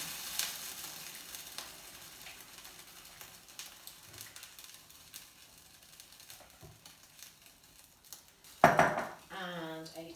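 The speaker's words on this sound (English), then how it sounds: "Let's add a nice big jug of vegetable broth." Vegetable broth for a Moroccan stew pours into a hot pot, setting off a brief loud hiss and bubbling after a quiet stretch of faint sizzling and light clinks of utensils.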